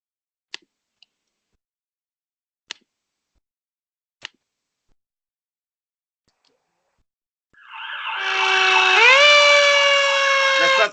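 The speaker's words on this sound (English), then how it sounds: "Can we get some sirens?" After a few sharp isolated ticks in near silence, a loud wailing fire-truck siren rises in and keeps blaring steadily to the end.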